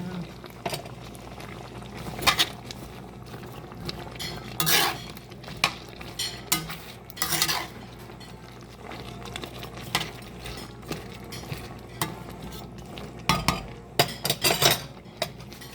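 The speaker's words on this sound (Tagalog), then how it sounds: "Ilagay na natin yung ating kalabasa at sitaw. Sabay-sabay na natin ilagay dyan." Squash and string beans go into a pot of coconut-milk vegetable stew and are stirred, with a spoon clinking and scraping against the pot in irregular bursts over a soft simmer.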